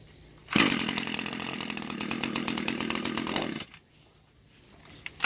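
An Echo GT-225 string trimmer's small two-stroke engine fires up abruptly and runs at a loud, steady buzzing rev for about three seconds, then cuts off, leaving near silence.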